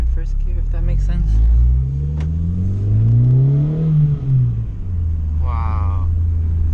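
A car fitted with a new MFactory 4.928 final drive pulls away hard in first gear, its loud engine rising steadily in pitch before easing off, with people talking over it inside the cabin.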